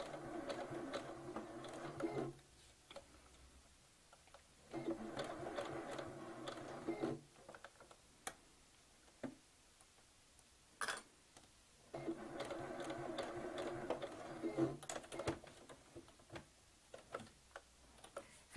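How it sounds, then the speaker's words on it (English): A sewing machine runs in several bursts of rapid, even stitching, pausing between runs with a few soft clicks. "We are sewing this, we can see exactly where our needle's going down."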